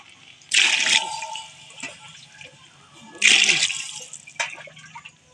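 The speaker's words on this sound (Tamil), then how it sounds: "6 கிளாஸ் தண்ணி ஊற்றிக்கலாம்." Water is poured into a pot for vegetable rice in two separate splashing gushes with a short trickle between them, close by and without speech.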